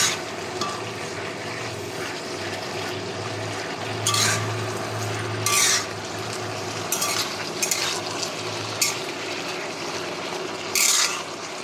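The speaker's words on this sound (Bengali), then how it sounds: "লবণ হলুদটা শাকের সঙ্গে ভালো করে মিশিয়ে নেব।" Leafy greens with salt and turmeric are stirred in a hot pan, a steady sizzle broken by several scraping spoon strokes and clatters against the metal, close and without talk.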